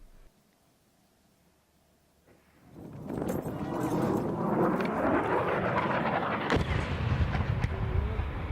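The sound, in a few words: fighter jets flying low overhead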